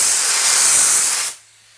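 A Lube Shuttle Lube-Jet ECO spraying lubricant in a fanned horizontal pattern, one loud, close, steady hiss lasting over a second before cutting off abruptly.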